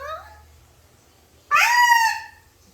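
A pet bird lets out a sudden loud, shrill squawk after a quieter call, close by and alone over a low background hum.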